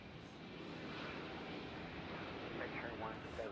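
Faint, distant drone of a Spirit Airlines airplane at Nashville International Airport, a steady broadband rumble with soft whining tones, under the chatter of a plane spotter.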